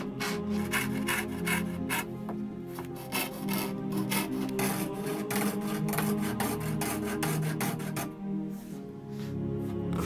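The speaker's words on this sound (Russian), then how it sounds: "Поэтому, да, ручной лобзик." A hand jigsaw cuts through wood with steady, rapid back-and-forth rasping strokes, close and continuous, fading briefly near the end before resuming.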